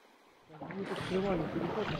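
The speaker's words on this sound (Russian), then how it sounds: "Слушай, вода-то большая." A large, flooded taiga river rushes in a steady broadband roar that swells in after a quiet start, with a voice talking over the water.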